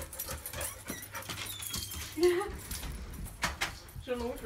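An excited dog at home whines, yips and barks in short bursts as people arrive, mixed with keys jangling and voices talking nearby.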